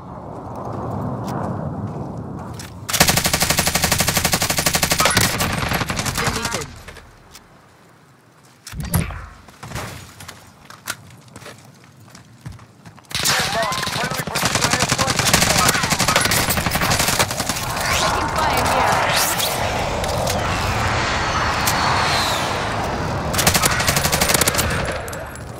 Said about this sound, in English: Commence airstrike.